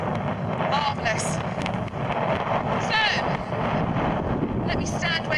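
Wind buffets an outdoor microphone at a side-saddle race day at Audley End House, a constant heavy rumble under a nearby voice talking throughout.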